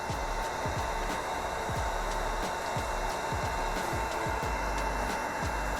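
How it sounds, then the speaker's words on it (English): A heat gun or hair dryer on its lowest setting blows a steady, fairly loud whoosh of air while heating vinyl film on a Nissan Z side panel during a chrome delete. "So you can use a heat gun or a hair dryer. Use the lowest setting on your device and just apply heat throughout the entire panel."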